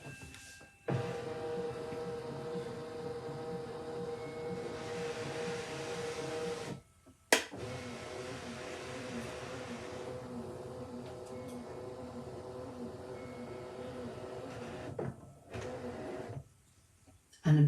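A Brother ScanNCut cutting machine runs a background scan, giving a steady mechanical whir with motor hum across most of the span, briefly interrupted by a couple of short pauses and clicks.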